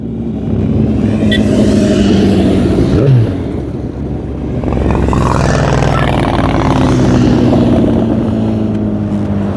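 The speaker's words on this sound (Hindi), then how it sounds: "पहले बाइक की आवाज़ सुन लें" A loud motorcycle engine roars and revs continuously at a custom show in Qatar, rising and falling in pitch with a deep rumble close by, no voices.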